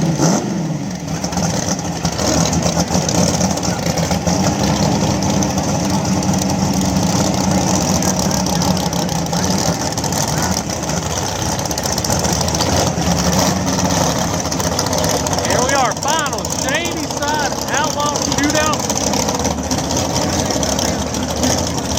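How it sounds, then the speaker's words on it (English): Nitrous small-block Mustang and twin-turbo LS race cars sit idling at a small-tire outlaw drag event, a steady loud rumble of big engines throughout with crowd chatter and announcer-like voices mixed in underneath. "Ricky, the small block nitrous power Mustang."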